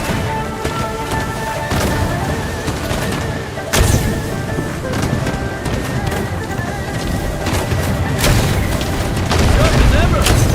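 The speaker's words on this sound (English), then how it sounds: "They even brought out the fire cannons!" Deep booms and sharp blasts go off repeatedly amid a busy, noisy scene, with voices mixed in beneath the firing.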